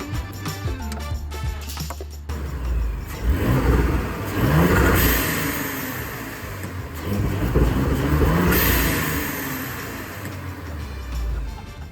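An Audi SQ5 3.0 turbo V6 fitted with a Revo diverter valve spacer and intake revs up loudly in several sustained pulls, engine note rising and falling close by.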